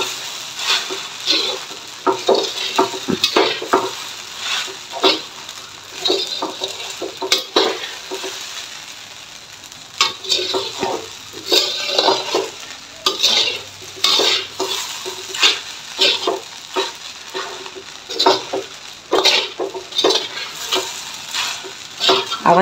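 Sabudana (sago) is stirred in a pan, with repeated scraping strokes of a spoon against the metal over a soft sizzle, close and fairly loud in an uneven, steady rhythm.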